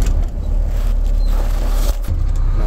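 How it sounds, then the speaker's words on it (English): A tractor truck's engine runs at a loud, steady idle, with a continuous low diesel rumble and broadband noise throughout. "Start the truck."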